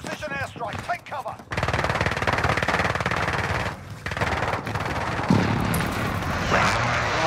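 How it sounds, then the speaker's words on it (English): An enemy precision airstrike in Call of Duty sets off a loud, sustained barrage of rapid booming fire and blasts that rolls on for several seconds, with a few voices talking faintly at the very start. "Enemy precision airstrike."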